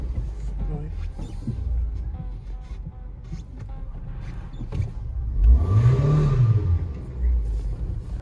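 A Hyundai i10 or i20 car engine pulling uphill on a very steep bend in first gear, a low steady drone that swells into a rising rev midway, with a voice faintly underneath.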